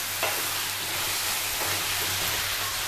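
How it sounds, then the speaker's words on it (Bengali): Chicken keema frying and being stirred with spices in a pan: a steady broadband sizzle runs throughout, with a few scraping stir strokes cutting in, close and fairly loud with no voices. "এটাকে এবার আমি মশলার সাথে ভালোভাবে কষতে থাকবো।"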